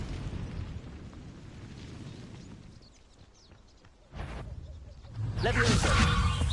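A fire spell is cast in Hogwarts Legacy, a wizarding video game: a sudden whooshing burst is followed by a roaring, crackling flare of flame that swells loudly and sustains. The spell rises out of a quieter ambient stretch.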